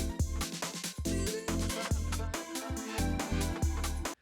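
Future UK Garage track with punchy, shuffling drums, deep sub bass and layered synth chords, playing loud and continuous for about four seconds before cutting off abruptly.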